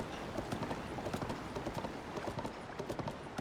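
Horse hooves clip-clopping steadily while riding through a run-down part of town in the video game Zelda Breath of the Wild, a continuous rhythmic gait at moderate volume with no talk.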